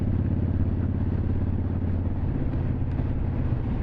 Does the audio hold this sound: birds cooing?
no